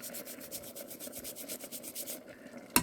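Fresh ginger root grated against a grater while making egg roll in a bowl, a steady series of close, rhythmic scraping rubs ending in a sharp knock.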